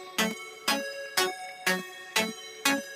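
A synth plays a simple four-note ascending pattern, six even plucky notes with crisp attacks spaced at a steady rhythm, clear and close, with no voices.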